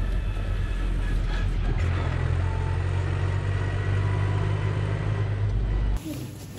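A tractor engine drones steadily and loudly on a road, with cars following slowly behind; the rumble cuts off abruptly near the end.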